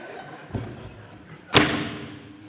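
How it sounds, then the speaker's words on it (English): A door shuts with a loud bang, a single sharp impact preceded by a softer thump, heard close over a faint background. "closed it with a bang"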